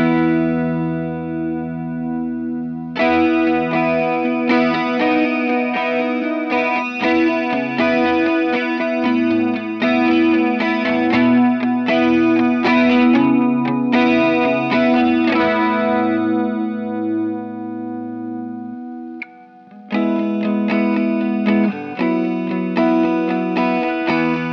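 DOD Ice Box chorus pedal on electric guitar, loud strummed chords with a shimmering, wavering chorus tone that ring through most of the stretch, stop briefly near twenty seconds, then start again.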